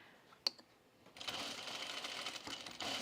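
A sewing machine stitches down tucks while sewing a pullover camp dress. A sharp click comes first, then a steady rapid whir runs for almost two seconds with a brief dip before it resumes. The sound is faint and close, and no one speaks.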